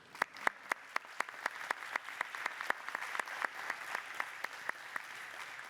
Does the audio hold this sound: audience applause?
yes